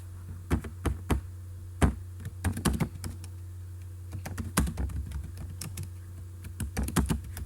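Typing on a computer keyboard, with irregular crisp key taps in quick clusters and pauses over a low steady hum, close and fairly quiet.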